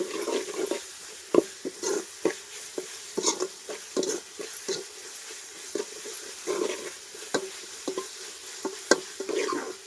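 Onions and tomatoes sautéing in a pan, a soft steady sizzle broken by repeated scraping and stirring taps of a utensil against the pan, close and irregular.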